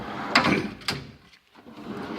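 A metal tool box drawer, the electrical drawer of a home tool chest, slides open with a short rolling rattle, a clack, then a quieter scrape of the drawer settling.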